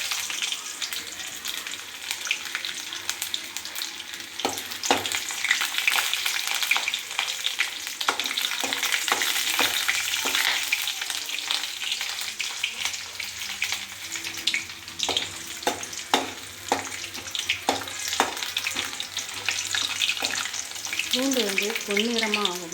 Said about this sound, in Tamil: பூண்டு பொன்னிறமாக ஆகணும். அது வரையும் கொஞ்சம் வணக்கணும்.